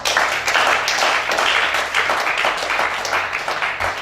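A church congregation applauds steadily, loud and close, with waves of crowded clapping that rise and fall slightly across the few seconds.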